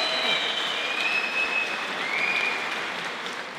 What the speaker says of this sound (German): Kampf, Applaus von beide Kämpfer!